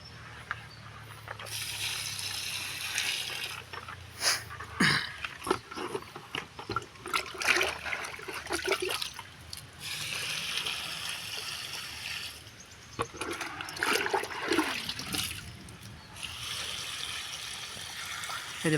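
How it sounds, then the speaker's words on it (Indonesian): Water is poured into a container of organic material to make Jadam liquid fertilizer, splashing and trickling unevenly with knocks and handling noises, nearby and fairly quiet, no talk. "Kemudian tinggal dimasukkan airnya."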